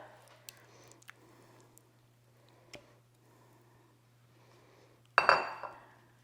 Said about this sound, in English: Now add on the rest of the ricotta.